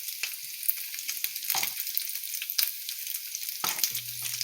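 Bacon frying in a pan, a steady close crackling sizzle with scattered pops and a couple of faint knocks, no talk.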